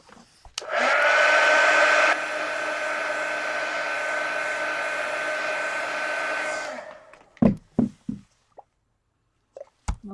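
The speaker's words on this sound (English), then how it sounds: "Hit it with the heat gun." A heat gun blows steadily on a mixed media collage card, a loud, even whooshing hum for about six seconds that steps down slightly partway through, then cuts off, followed by a few faint clicks and taps.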